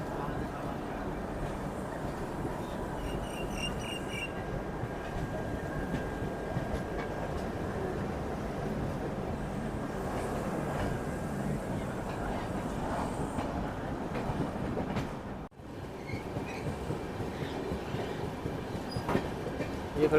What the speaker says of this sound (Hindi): वो जिससे वो आ रही है झेलम एक्सप्रेस, लेट लतीफ़ झेलम एक्सप्रेस